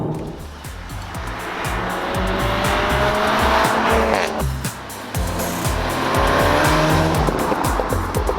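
Volkswagen Golf engine under hard driving, loud and close throughout, with rising revs, gear changes, tyre squeal and skidding, like a car being pushed on a track.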